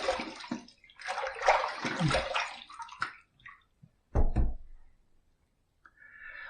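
A razor is rinsed under running water after a shaving pass, with splashing bursts of flow, a short pause, then a brief loud gush and quieter trickling.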